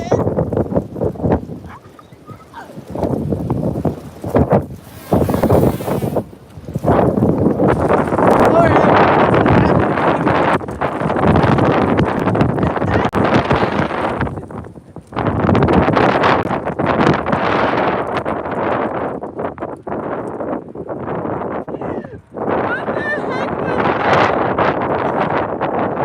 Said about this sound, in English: Being blown away by the wind.